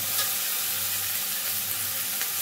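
Brinjal pieces being stirred in a hot frying pan, a steady close sizzle with soft scraping, even and continuous, no voices.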